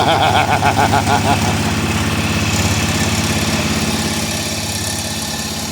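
A 1996 Polaris Marauder 425 4x4 ATV engine catching and running at a steady loud idle, with an uneven sputter in the first moments that settles into a continuous drone.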